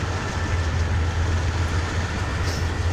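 A CN/IC Blue Devil locomotive leads a grain train over Marias Pass in Train Simulator 2019, giving a loud, steady, close diesel rumble with an even low drone throughout.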